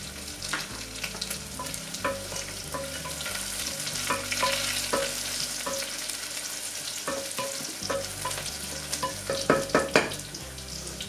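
Green chilies, dry red chilies and cumin seeds sizzle and fry in hot oil in a pan, with scattered crackles and stirring taps, moderately close and without talk.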